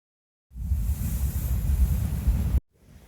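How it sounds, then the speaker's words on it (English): Howling wind of a winter storm on a solo canoe trip, a strong, roaring gust buffeting the microphone for about two seconds before cutting off abruptly to quiet. "I can hear the wind. It's howling out there."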